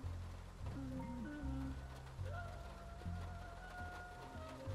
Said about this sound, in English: I've never seen this much rain coming down.